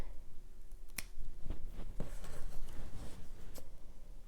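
Scissors snip close by while trimming punched holes in fabric quiet book pages, a few sharp cuts over soft handling noise, with no talking.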